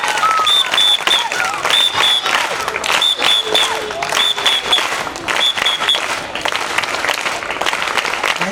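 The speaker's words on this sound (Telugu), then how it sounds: "అందరూ కూడా గట్టిగా క్లాప్స్ ఎమ్మెల్యే గారికి" Students clapping for an MLA at a school event, a sustained round of applause from a crowd with bright bird chirps cutting through and a few voices mixed in.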